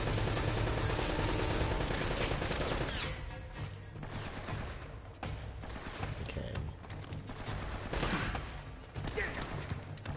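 Gunfire in the video game Uncharted: Drake's Fortune, with dense overlapping bursts of automatic fire that thin out into scattered shots and impacts, loud and continuous.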